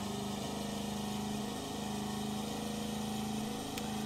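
A boat engine in the fishing game Russian Fishing 4 runs at a steady idle, a constant mid-pitched drone that stays even throughout with no talk.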